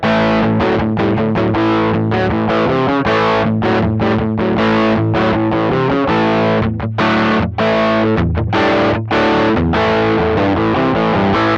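Heavily overdriven electric guitar through a Sonicake Sonicbar Twiggy Blues pedal at full gain, on the brightest pickup, loud and saturated, with chugging chords and quick muted stops in a driving rhythm.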